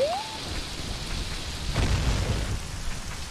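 In Ocarina of Time, rain and thunder conjured by the Song of Storms arrive after a short rising chime, with steady hissing rainfall and a low rolling rumble of thunder swelling midway, loud and enveloping, with no speech.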